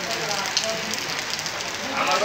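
Rain falls steadily on surfaces nearby, a continuous close patter and hiss that swells slightly toward the end.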